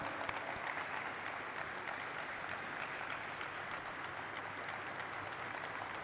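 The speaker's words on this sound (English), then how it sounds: "Everybody stay with me and keep clapping as our partners join us on stage." Sustained applause from a large audience fills an IPO listing ceremony for Orkla India Limited as partners are called up on stage, a steady, dense clapping wash at even loudness throughout.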